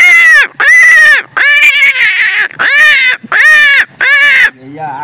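A man imitates a crow's caw to call crows, giving six loud, close, hoarse caws in a quick rhythm with short gaps between them.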